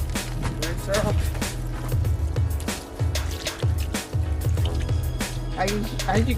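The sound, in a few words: water hose rinsing an aluminum boat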